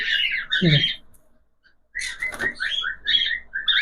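Pet cockatiels in a bird shop give loud, shrill squawks and chirps in repeated bursts, with one brief quiet gap, sounding close by.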